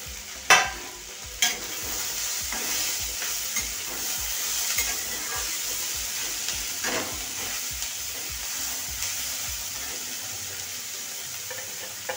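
Tomatoes frying and being stirred in a pan, with a steady close sizzle and repeated scraping strokes of a spoon throughout, no talking.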